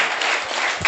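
A school audience applauds two competing classes, a brief, dense burst of many hands clapping together at steady strength.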